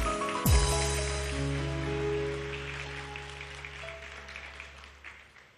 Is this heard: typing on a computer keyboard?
no